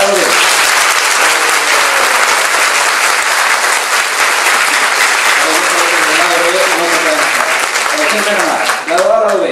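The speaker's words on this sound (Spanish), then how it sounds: "Fuertes aplausos para lado B." A conference audience claps loudly and continuously, a dense wall of applause lasting throughout, with a few voices calling out near the end.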